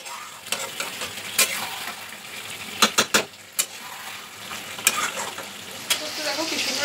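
Chicken sizzling and frying in a pan while being stirred into a korma-style kosha curry, with a steady hiss broken by sharp scraping clicks of the spatula against the pan.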